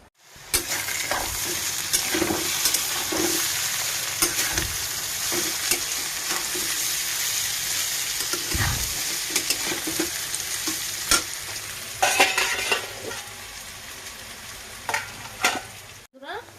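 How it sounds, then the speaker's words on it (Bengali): Potatoes with sliced onion fry in a pan, with a steady close sizzle and repeated stirring scrapes throughout, plus a few louder clatters near the end. "আর এখানে হচ্ছে আলু ভাজা, একটু পেঁয়াজ কেটে ভালো করে আলুটা ভাজা হচ্ছে।"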